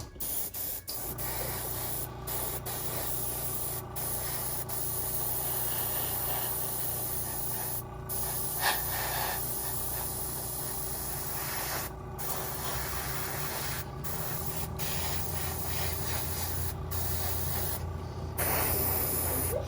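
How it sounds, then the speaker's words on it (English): A continuous, steady hiss of spray paint on a model airplane, running almost nonstop, with a few short pauses and faint rubbing and clicking underneath. "We're just going to be spraying the airplane,"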